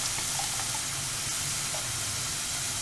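Garlic sautés in a pan for a rajma kuzhambu, making a continuous, close, even sizzling hiss with no voices.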